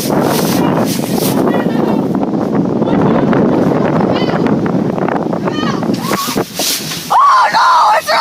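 Roaring blizzard wind in a video game blows steadily and loudly throughout, with a voice talking and exclaiming over it.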